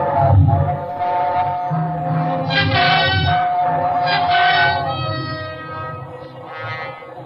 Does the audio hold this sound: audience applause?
no